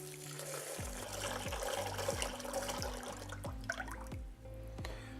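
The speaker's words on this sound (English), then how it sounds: "So I'll just add some cool water" Cool water pours steadily onto dry rice set to soak, a continuous close splashing trickle with a few distinct drip-like plops near the end, no voices.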